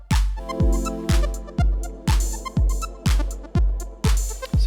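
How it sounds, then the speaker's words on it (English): Drum machine kick drum in a programmed sequence, booming in a steady four-on-the-floor pulse of about eight hits, each with a long decaying low tail, loud and up front over faint synth tones. "Kick drum."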